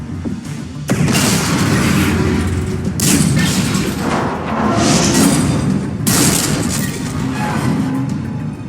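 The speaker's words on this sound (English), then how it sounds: "ships open fire." Spaceships open fire in Mass Effect 3 with heavy booming weapon blasts, several loud explosive bursts rolling into one another over a continuous rumble, with no voices.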